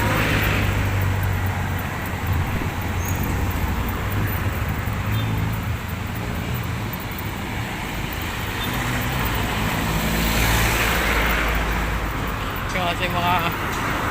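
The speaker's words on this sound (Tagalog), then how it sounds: "Ayan, yung modern jeep naman to." A modern jeepney passes on a busy Manila street near Quiapo Church, its steady engine drone blending into continuous loud traffic rumble that fills the whole stretch, with a brief brighter swell near the end.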